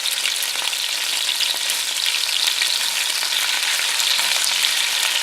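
Lamb pieces for a French lamb casserole sear in a hot pan, giving a loud, continuous, dense frying sizzle that stays steady throughout with no voices.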